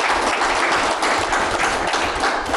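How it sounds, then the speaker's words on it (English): An indoor studio audience claps in a dense, sustained burst of applause that holds steady and loud throughout, with no talking. "We can clap for ourselves as we wind this up."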